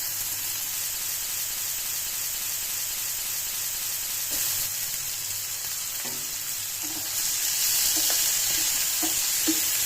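Mixed vegetables for Bhogi bhaji, including carrot, cauliflower, peas and brinjal, frying in a pan: an even, close sizzle and hiss throughout, with light stirring clicks and scrapes joining in the last few seconds.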